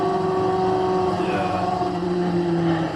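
Motorcycle engine in a close-call riding clip drones steadily with a sustained tonal whine, holding a constant, fairly loud pitch for a few seconds with a slight shift partway through.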